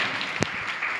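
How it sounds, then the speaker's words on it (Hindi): Devotees clapping at a religious celebration for a guru's initiation day, a brief dense burst of clapping with one sharp louder clap in the middle. "सभी भक्तों ने तालियां बजाई"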